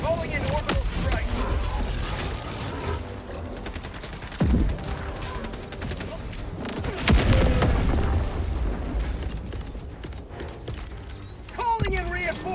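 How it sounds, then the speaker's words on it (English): Orbital strike explosions in the video game Helldivers 2, a run of loud booms and rumbling blasts over rattling gunfire, with several sharp hits standing out from the dense battle noise and voices talking throughout. "Calling in orbital strike."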